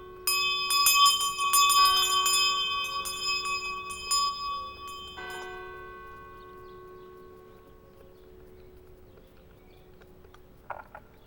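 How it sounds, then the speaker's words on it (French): Church bells ring at 8 pm in Houtain-Saint-Siméon, Belgium, in a rapid, clanging peal that gradually slows and fades, leaving a long lingering hum of the last strikes. "voici que les cloches nous annoncent qu'il est 20 heures"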